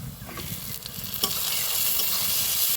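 Chopped tomato frying with browned onion in a pan, a steady close sizzle broken by a few scraping stirs, with no talk.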